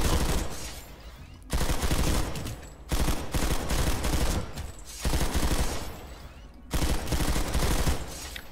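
Video game gunfire from Planetside 2 sounds in several loud automatic bursts, each lasting about a second, separated by short gaps in a steady repeating rhythm.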